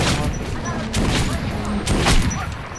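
Gunfire from a weapon in the video game Metro: Last Light Redux, a dense burst of booming shots with broadband crackle, loud and close, rising in a few heavier blasts over a continuous rumbling bed.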